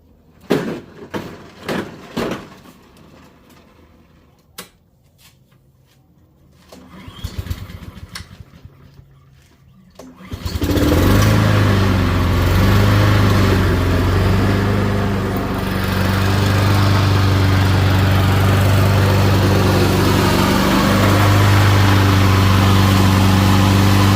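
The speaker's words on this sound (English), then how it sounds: "Let's wheel it outside, fire it up, and hopefully it drives itself." A Honda HRN216 walk-behind lawn mower goes from scattered handling clunks and a pull-start attempt to a sudden loud start, its engine then running steadily and close by with a constant drone and no talking.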